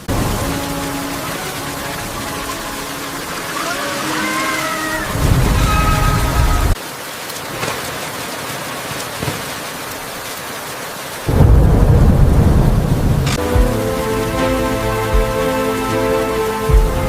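Heavy rain pours steadily on a tent camp atop a Cybertruck while thunder rumbles and cracks in loud bursts, with dense, continuous storm noise throughout.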